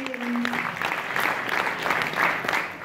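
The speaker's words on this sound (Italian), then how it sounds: "Vi chiedo un applauso per Franco, un applauso grande grande" Audience applause fills a theatre-music concert, the inaugural concert of the thirtieth Teatromusica season in Morano Calabro, with dense, sustained clapping that stays steady and fairly loud throughout.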